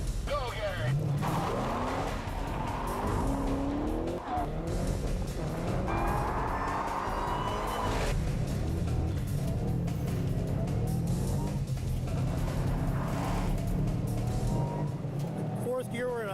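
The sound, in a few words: race car launching and accelerating with tire squeal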